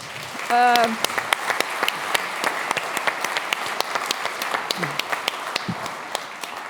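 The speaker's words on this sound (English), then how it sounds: "I think they all earned a big applause" Conference audience clapping at the NXTGEN Hightech Conference 2025 closing ceremony, sharp individual claps building into a fairly sparse, sustained round, with a brief voice near the start.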